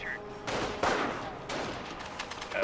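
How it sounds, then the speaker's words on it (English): A strafing run in a video game sends machine gun fire in dense, loud bursts of rapid shots with short gaps between volleys, close up and filling the whole moment. "Oh, strafing run almost kills that the machine gun."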